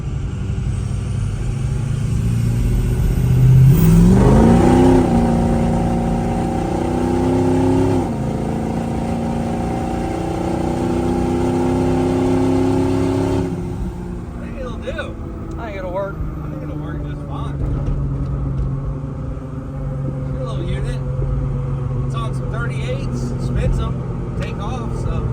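A budget mud truck on bigger tires revs hard, its engine rising to a loud peak early, then holding a strong droning roar before easing back; people talk over and after it.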